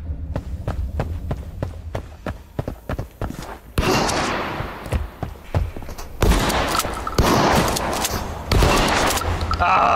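Shotgun blasts in the game Tarkov Arena, a burst of sharp close shots at first, then dense overlapping gunfire and heavy rumbling action that grows louder and more continuous toward the end.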